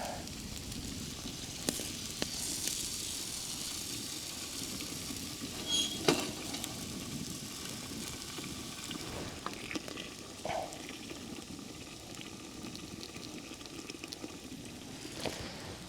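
Water poured into a pot of frying buckwheat, cooked Red Army style, sets off a steady hissing sizzle and bubbling boil, fairly quiet and close, with scattered pops and clicks throughout.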